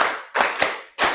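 Hand claps in a classroom counting game led by a teacher, with three sharp claps spaced roughly a third of a second apart, close and fairly loud, with no talking over them.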